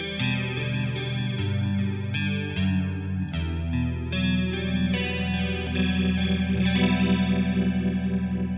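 Electric guitar played through a Boss chorus emulation plugin, chords and single notes shimmering with a wide, swirling modulated chorus and some grit, steady and close with no talking.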